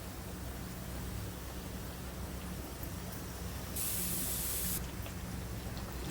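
Puris deep-frying in hot oil give a steady, soft fizzing hiss throughout, with a brighter surge of sizzle for about a second near the end.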